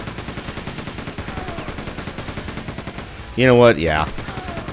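Rapid weapon fire in the Quake II: Ground Zero remaster, a steady stream of fast shots and impacts against enemy gunners running the whole time, with a brief burst of talk near the end.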